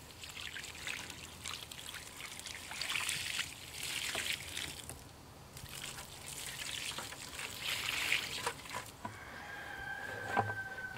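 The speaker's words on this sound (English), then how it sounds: "We're just gonna pour half of our mixture on this side." A lime mixture is poured out onto the soil around tomato plants with blossom end rot, a soft, quiet trickle and splash that comes and goes outdoors, with faint rustling in the background.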